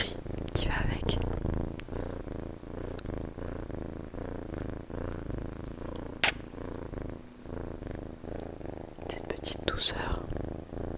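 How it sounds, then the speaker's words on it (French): Drowsy cat purring softly and steadily up close, a continuous low rumble under whispered French talk, with a few brief higher bursts and a small cry. "Écoutez comme il ronronne."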